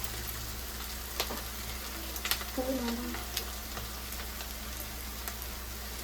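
Prawns frying in a pan for a gongura prawn curry, a soft steady sizzle running through the whole stretch with a few faint clinks and stirring sounds, quiet and close with no talking.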